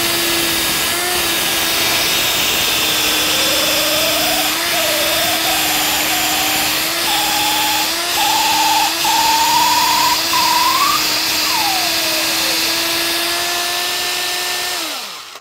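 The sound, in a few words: drill spinning cork handle against silicon carbide grit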